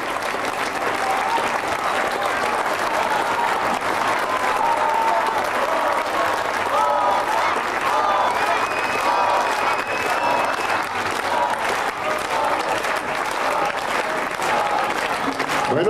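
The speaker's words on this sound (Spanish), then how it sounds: "Fuerte el aplauso." Loud, sustained applause from an audience closing a tribute concert in Coyoacán, steady clapping and crowd noise filling the whole stretch without pause.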